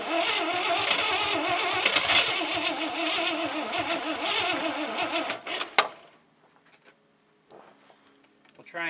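A 1967 International 1200 truck's engine cranks and labors loudly and steadily for several seconds, then cuts off abruptly into near silence with a few faint clicks and rustles.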